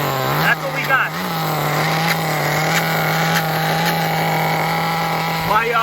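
A 21-year-old Tamiya Terra Crusher RC truck with low compression runs its small engine at a steady, loud buzzing drone that dips briefly and then holds even, with short bursts of talking over it.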